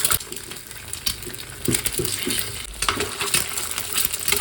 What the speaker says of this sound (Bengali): এদিকে তাওয়া গরম করে দিয়ে দিলাম অল্প সর্ষের তেল এবারে একটু ডিমগুলো দিয়ে ভেজে নেবো